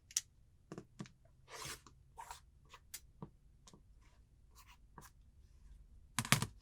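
Scissors or a cutter slice through quilt fabric a quarter inch from a freshly sewn seam, giving short, crisp, close snips separated by quiet gaps.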